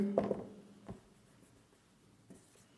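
Chalk or marker writing out a maths solution on a board during a class 10 trigonometry lesson, heard as a few short, faint scratching strokes spaced apart in an otherwise quiet room.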